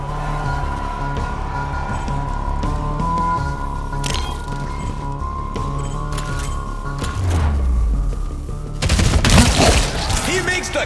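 Gunshots ring out in the Showgunners game amid a steady musical backdrop, building toward a loud cluster of sharp blasts and shattering impacts near the end.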